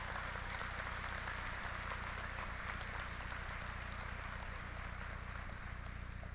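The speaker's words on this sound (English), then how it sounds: "let's give all of you a round of applause" Applause at a 2017 NCCC commencement ceremony: a steady, even wash of many hands clapping that sounds distant and fairly faint, with a low hum underneath and no clear speech.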